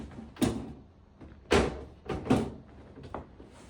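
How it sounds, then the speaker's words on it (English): A Parcel Port parcel door being fitted into a cut opening, with three distinct knocking thuds and a fainter fourth, close and moderately loud, each a sharp broadband hit of panel seating against its frame. "once you cut your template out, you install the door into the hole"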